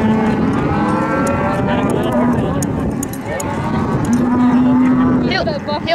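A calf lows repeatedly at a spring ranch branding, with drawn-out moos close by, hooves thudding and people talking in the background.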